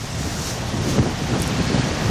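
Wind on a rainy, damp, cold day in Charlotte, a steady rough rush buffeting the microphone with a few gusty swells, loud and continuous with no voices.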